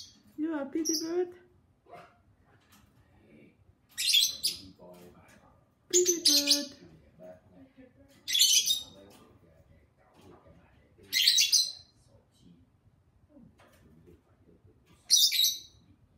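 A pet bird gives short, bright chirping bursts about every two to three seconds, close by, alternating with a person's speech.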